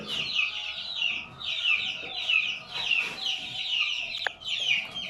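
High peeping newly hatched chicks chirp continuously in bursts, with occasional lower clucks from hens nearby and a single sharp click.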